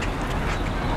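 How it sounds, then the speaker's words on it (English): Large flock of birds gathered in a parking lot in Houston, a dense loud wash of overlapping calls filling a brief moment with no single call standing out. "That's a lot of birds."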